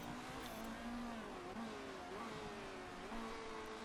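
Race car engines whine and drone continuously in the Motorsport Manager GT Challenger Series at Beijing, a dense steady roar of several cars circulating together at moderate level.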